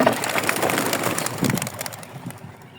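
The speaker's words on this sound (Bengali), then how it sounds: "দ্বিতীয় সেশনের জন্য কবুতর রিলিজ করলাম" Pigeons are released for a flying session on a foggy morning, with a flurry of wing flaps and fluttering close by, busy at first and then thinning out.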